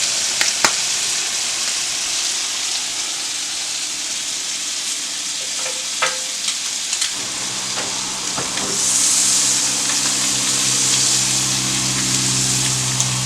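Scallops cooking in butter in a pan, a continuous loud sizzle and hiss with scattered pops and crackles, intensifying partway through as the butter is swirled.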